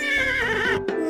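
A cartoon horse in the Pajama Sam 4 adventure game gives a single loud, close whinny, a bright wavering neigh that breaks off abruptly after about a second.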